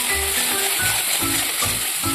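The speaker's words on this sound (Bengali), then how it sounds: "মশলাটাকে আমরা ভালো করে ভেজে নেবো" Ginger and garlic paste fries in a pan with a steady bright sizzle, close up, alongside faint low stirring knocks.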